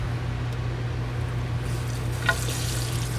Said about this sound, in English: we'll turn on my cold water.